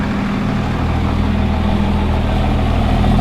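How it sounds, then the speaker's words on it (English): A truck engine with a new turbo and a 5-inch Diamond Eye exhaust with muffler idles close by, a steady, even low rumble with no breaks and no talking. "sounds good with the muffler."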